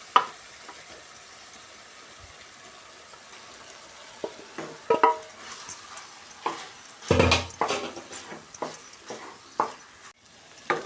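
Spoon stirring cooked rice into mint masala in a pan, giving soft scraping and clinking strokes that grow busier and louder midway, with light sizzling underneath.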